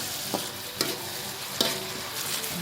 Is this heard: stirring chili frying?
yes